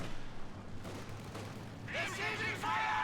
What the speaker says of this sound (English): there's a lot of enemy fire here